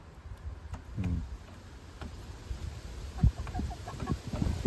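A rooster clucks in short bursts at mid distance on a poultry farm, with a few sharp ticks and soft rustling in a quiet setting.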